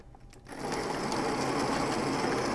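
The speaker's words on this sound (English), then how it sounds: "this is where it's lowest speed, and you can hear the noise is not too bad" An MX. COOL ARIES coffee grinder grinding beans at its lowest speed starts after a brief quiet moment, rising into a steady, even buzzing whir that holds close and moderately loud to the end.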